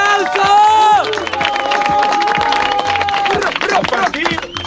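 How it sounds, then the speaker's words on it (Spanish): Loud audience applause and cheering at a freestyle battle final in a Mexican plaza, a dense crowd roar with clapping beneath a sustained musical tone and hubbub. "¡un fuerte aplauso!"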